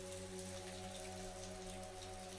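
Steady rain falls on city streets in Italy, a soft, even hiss of many drops that holds constant throughout without pause, with low tonal hum beneath.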